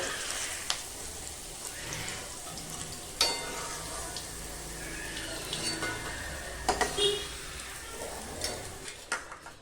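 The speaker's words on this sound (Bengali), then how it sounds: "উচ্ছেগুলো বেশ লাল করে ভাজা হয়ে গেছে" Bitter gourd slices frying in hot oil for a Bengali shukto, a steady soft sizzle with a few sharper crackles and utensil clinks, moderately close and continuous throughout with no talking.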